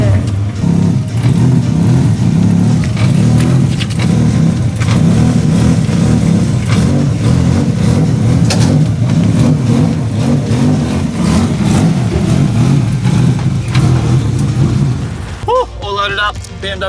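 A car engine driving and revving inside the cabin, a loud, continuous low rumble with shifting pitch that drops away near the end.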